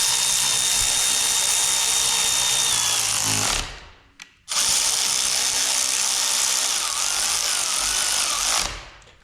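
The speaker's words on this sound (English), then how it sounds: "I'm just gonna start with the ratchet, the electric ratchet, get it all close." An electric ratchet whirs steadily while tightening bolts on an Allis Chalmers tractor, a loud, close mechanical buzz running for several seconds, a short pause, then another long continuous run.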